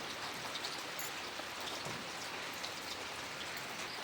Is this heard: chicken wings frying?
no